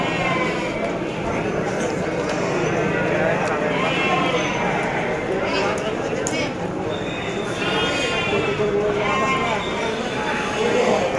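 Garut sheep bleat repeatedly at the Tanjungsari livestock market, a dense crowd of overlapping bleats above constant loud market bustle, hoof clatter and people talking.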